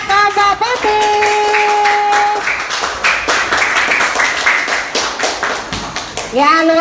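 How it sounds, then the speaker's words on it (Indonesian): Classroom clapping for a student group during a school lesson, rhythmic hand claps from children mixed with children's voices and a teacher talking, with bursts of sustained tones at the start and end. "Ya, tepuk tangan buat kelompok putih."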